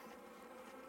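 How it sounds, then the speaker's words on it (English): Honey bees buzzing around an open hive during an inspection, a steady close swarm hum that is fairly faint and continuous, with no talking. "So I've got bees coming out pretty decent now"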